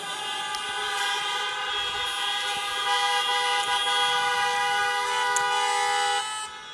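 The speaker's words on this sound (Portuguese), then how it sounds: "Dá uma buzinada aí." A sustained, steady horn blast rings out loud and close for about six seconds, its rich harmonic tone holding unbroken before cutting off near the end, with no talking over it.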